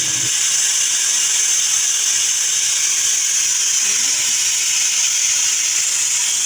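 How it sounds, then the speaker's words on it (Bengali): A pressure cooker on the stove while khichuri cooks gives off a loud, unbroken steam hiss that holds steady from start to finish, close by with no speech. "সব কিছু ভেজে আমি প্রেশার কুকারে দিয়ে দিলাম, এবার সিটি দিয়ে দিলেই হয়ে যাবে।"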